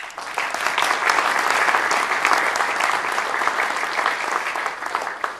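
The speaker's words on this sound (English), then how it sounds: "So give yourselves a round of applause." Audience at a Goodwill Industries gathering applauding, a dense, even roar of many hands clapping together, loud and sustained throughout with no voices over it.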